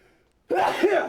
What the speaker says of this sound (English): what a poorly timed sneeze.